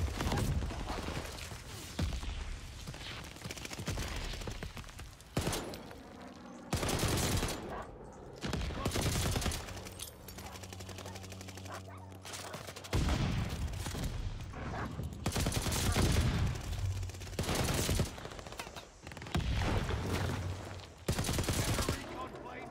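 A Type 11 light machine gun fires in the shooter game Call of Duty: Vanguard, in repeated loud, rapid bursts separated by short pauses, with other game sounds mixed in and a voice speaking at times.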